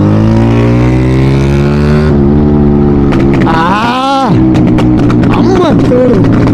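A Yamaha R15 motorcycle with a pops-and-bangs exhaust tune holds a loud, steady idle, then revs up and lets off into a run of sharp, crackling exhaust pops close by.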